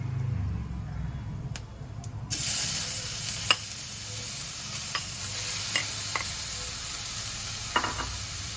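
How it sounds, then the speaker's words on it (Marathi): Amla and turmeric sauté in oil with crushed fennel seed, a soft continuous sizzle jumping louder as they hit the pan, with occasional sharp utensil clicks and scrapes. "त्यावर आपण आवळा आणि हळद घालूया"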